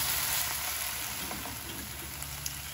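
Watermelon rind curry frying in a pan as it is stirred and mixed: a dense, loud, continuous hiss of sizzling oil fills the short stretch, close by, with faint scraping under it.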